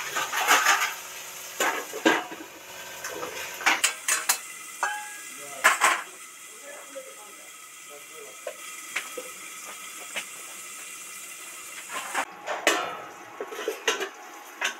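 A utensil stirs onion and tomato in a metal pan, giving irregular scraping clanks and taps that come and go at close range, with quieter gaps between bursts.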